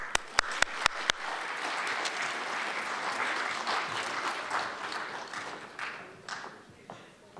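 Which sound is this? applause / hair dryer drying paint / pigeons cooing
applause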